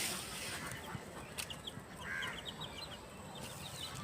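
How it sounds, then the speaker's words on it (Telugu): Chickens and ducks in a home garden make soft, scattered clucks and chirpy calls at a moderate distance over a hissing outdoor background. "అలాగే మా దగ్గర బాతులు ఉన్నాయి. ఇవి కోళ్ళు మొన్నే తీసుకున్నాము."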